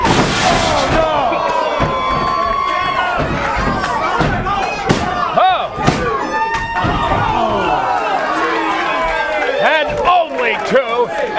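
Wrestling crowd at an Atlantic Pro Wrestling match roaring and cheering as fans rise from their seats, with sharp slams and thuds from the ring, loud and close, mixed with excited commentary.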